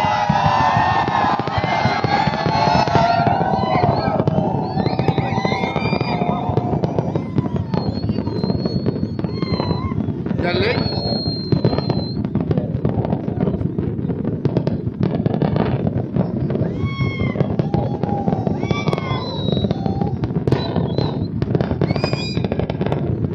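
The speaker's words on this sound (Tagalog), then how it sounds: "Maganda yung fireworks nila ngayon," Fireworks display at a Qatar National Day celebration in 2020, a dense continuous barrage of crackling bursts and pops, loud and sustained, with faint crowd cheering and whistles mixed in at the start.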